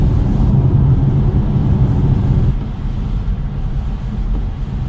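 A lowered BMW M4 driving along, its engine and exhaust giving a loud, steady low drone with some wind rush, easing slightly partway through, and no one speaking.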